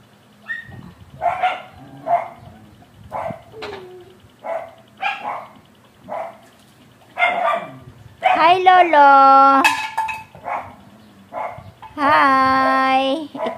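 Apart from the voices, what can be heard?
dogs barking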